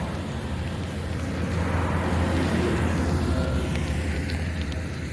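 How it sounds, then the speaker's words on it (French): A big tractor passes on a road and two vans overtake it, making a steady engine rumble that swells mid-way and then eases, with wind noise on the microphone. "Il y a un gros tracteur qui va passer, doublé par 2 fourgons complètement fada."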